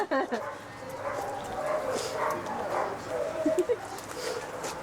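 A shelter dog out on a walk from a refuge yips and whimpers in short excited bursts, fairly close, amid outdoor background noise while people chat.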